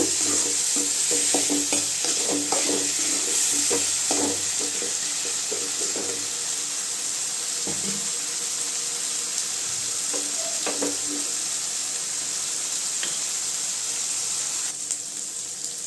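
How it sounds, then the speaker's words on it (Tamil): Tomatoes and bitter gourd sautéing in a pan for a bitter gourd kuzhambu, steady sizzling hiss with scattered spatula stirs and scrapes in the first half, continuous and close with no voices. "இது கூட பாவக்காய் சேர்த்துக்கலாங்க எல்லாம் தக்காளி கூடவே கொஞ்சம் நேரம் வதங்கட்டும்"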